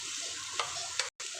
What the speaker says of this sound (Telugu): కాకరకాయను బాగా వేయించుకోవాలండి.